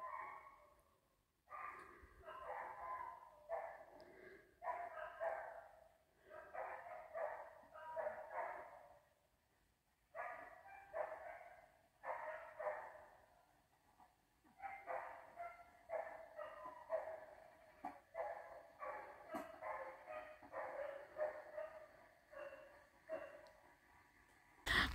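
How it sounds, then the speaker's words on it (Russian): Dogs bark at night near a forest at a countryside recreation base, with repeated bursts of barking from several animals coming in waves at moderate distance, broken by short pauses. "А здесь и собак полно, и собаки как начали гавкать"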